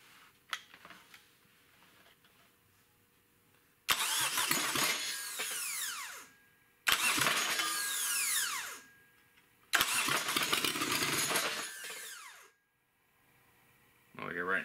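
A Kubota diesel engine swapped into a Geo Metro, glow plugs heated, cranks and fires in three loud, sustained bursts separated by brief pauses, each rough and rumbling, with voices heard between attempts.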